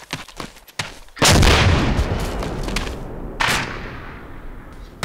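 An 84 launcher fires in Arma 2 with a loud, close boom and roaring back blast that rumbles for seconds, then a second blast or impact follows, set after a few faint clicks and no talking.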